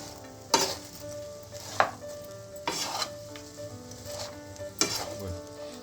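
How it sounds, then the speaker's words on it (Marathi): Salted mixed vegetables stirred in a pan, with about five distinct spatula scrapes and clanks against the metal spaced over a faint ongoing sizzle, close and fairly quiet. "व्यवस्थित ढवळून घ्यायचं आहे।"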